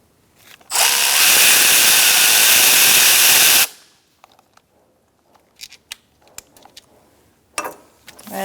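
Power tool spinning a 10mm socket to remove bolts on a 2012–2019 Fiat 500 1.4L four-cylinder engine during camshaft position sensor replacement; a close, loud whirring burst of about three seconds, followed by scattered light clicks and metallic clinks.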